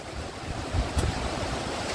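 Strong Hurricane Idalia wind gusts roar around trees in a brief, close blast, the rushing swelling twice before settling back.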